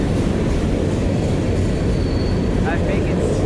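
A BNSF freight train led by locomotives 6049, 7038 and 6884 slowing down in La Crosse, Wisconsin, a loud, close, continuous rumble of rolling wagons with faint wheel squeal and brief voices.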